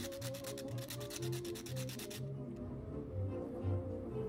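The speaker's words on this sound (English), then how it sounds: "Give it a little bit of sanding." Hand sanding of workable epoxy resin on an Art Deco restoration piece, a close rhythmic rasping rub of repeated strokes that stops about halfway through, leaving quieter scraping.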